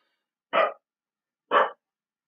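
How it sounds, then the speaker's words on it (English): Dogs at home giving two short, sharp barks about a second apart, close and clear against otherwise silent surroundings. "Oh, the dogs are going mad."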